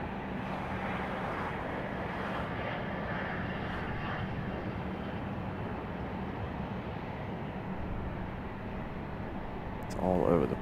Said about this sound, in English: Hopefully you guys see the departure of the 787